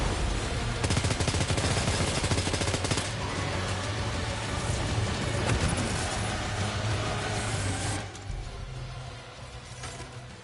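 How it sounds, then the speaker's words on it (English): Sustained rapid automatic gunfire in the video game Death Stranding 2, loud and dense bursts running with mechanical clatter, then dropping off near the end into quieter rattling. "Opening fire now"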